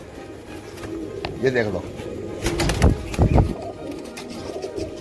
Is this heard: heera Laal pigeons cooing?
yes